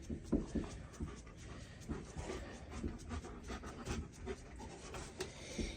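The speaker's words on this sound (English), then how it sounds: "This is two dogs playing." Two German Shepherds play together, with steady panting, snuffling and scuffling close by at low volume, broken by small yelps and rustles, and no clear barking or speech.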